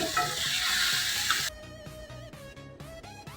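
Pumpkin cooks with daal spices in a pan, first under a loud hiss, then under a quieter, crackling sizzle with rhythmic scraping and knocking as it is stirred. No voices.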